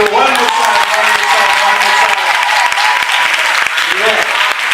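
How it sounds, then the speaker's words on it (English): Loud, close applause from an audience at the University of KwaZulu-Natal Howard campus, continuous clapping with some voices mixed in underneath. "One more time, a round of applause for Thando."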